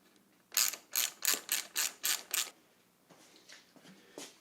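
Seven quick, sharp ratchet clicks close up as a clamp is tightened during a Yamaha DT175 vintage enduro trail bike build, followed by a few softer, slower clicks.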